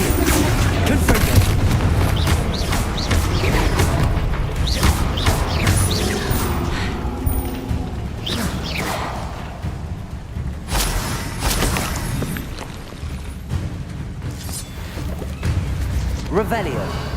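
Confringo blasting spells in Hogwarts Legacy go off as a string of booming explosions and crashes, loud and repeated over combat noise, with voices heard between the blasts.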